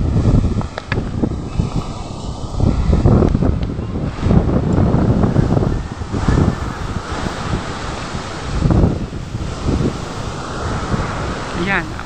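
Wind and surf at a seashore littered with flood-borne bamboo and driftwood, a steady loud roar with surging wave swells and buffeting microphone wind throughout, with no talking.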